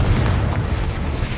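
Confringo blasting spell exploding in Hogwarts Legacy, a loud, continuous rumbling blast that fills the whole moment with a dense, booming roar and no voices over it.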